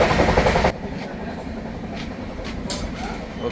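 A moving passenger train rumbles loudly at first, then settles into a steadier rolling drone with faint rhythmic clicks, heard while walking forward from an AC coach toward the pantry car.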